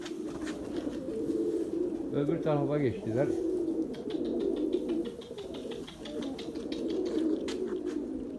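Pigeons coo in a low, repeating murmur close by while someone talks in Turkish over the birds for most of the stretch.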